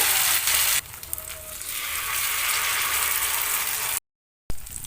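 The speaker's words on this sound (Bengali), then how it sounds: "ব্যাটারের মধ্যে কোট করে নেওয়ার পর ভালো করে ব্যাটারটাকে ঝরিয়ে নেব আর তারপর এইভাবে গরম তেলের মধ্যে দিয়ে দেবো" Batter-coated semolina snacks frying in hot oil give a steady, close crackling sizzle that cuts out for a moment near the end, then resumes.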